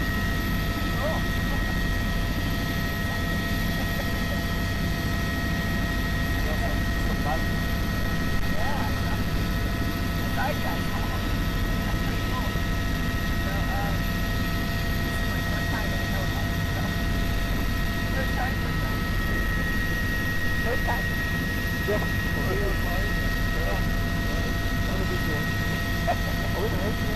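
Tour helicopter flying over the Grand Canyon heard from inside the cabin as a loud, constant engine and rotor drone with steady tonal hum, while people talk over it throughout.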